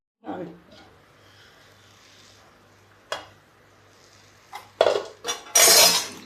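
A metal pot is covered with a lid while a water chestnut snack cooks, giving a few sharp clanks and clinks close by, separated by quiet stretches, then a cluster of louder metallic knocks at the end.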